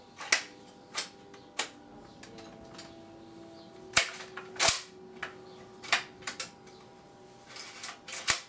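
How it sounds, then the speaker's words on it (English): A Tokyo Marui SCAR-L airsoft gun dry-firing during a takedown and reassembly: about a dozen sharp, close mechanical clacks at irregular intervals, each dying quickly, over a quiet room with faint background hum. "you can easily just quickly have a crack at firing this thing now"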